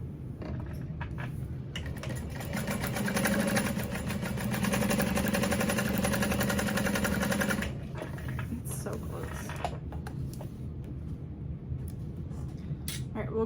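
A sewing machine stitches a backpack in a steady, rapid mechanical whir for several seconds before stopping, with quieter handling noises and faint talk around it.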